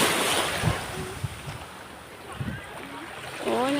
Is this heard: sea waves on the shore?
yes